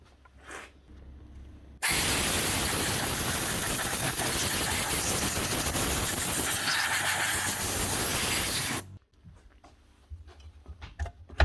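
Compressed air blasting into the gearbox of a DeWalt DCS391 cordless circular saw, a loud steady hiss lasting about seven seconds that starts and stops abruptly, with quiet workshop handling before and after.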